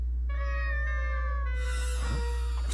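A cat meows in a Bungo Stray Dogs Wan! anime episode, one drawn-out tonal meow followed by a shorter rising one, heard alone over a steady low hum.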